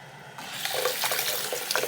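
A faucet runs warm water for a guinea pig's bath, starting after a brief pause and then splashing steadily and close into a sink.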